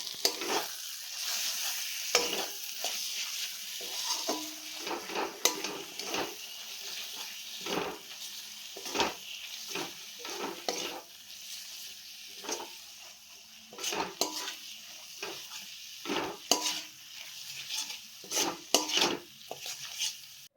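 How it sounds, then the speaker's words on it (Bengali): Ground coriander, cumin powder and other spices frying in oil for a black sesame chicken curry, with repeated scraping stirs over a soft steady sizzle, close and fairly quiet, no talk. "এগুলোকেও ভালো করে ভেজে নেবো, মশলার সাথে ভালো করে মিশিয়ে নেবো।"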